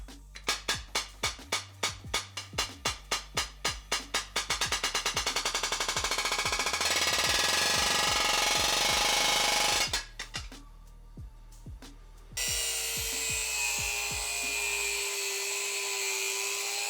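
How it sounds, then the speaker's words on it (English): A homemade pneumatic slapper built from a palm nailer, hammering hard in rapid bursts that speed into a continuous blur, then a pause and a sustained airy hiss with a steady whine. "So we've got the palm nailer that sits like that, hammers in the front."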